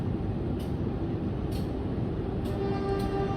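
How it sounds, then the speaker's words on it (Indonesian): The Singasari passenger train departs Bumiayu station with a steady low rumble and rolling drone, broken by a few faint high squeaks or clicks, heard continuously at moderate distance. "persiapan diberangkatkan kembali dari Stasiun Bumi Ayu, kereta api Singasari dan kereta api Mataram"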